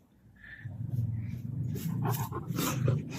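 A dog pants close by, with quick breathy huffs and a faint whine near the start.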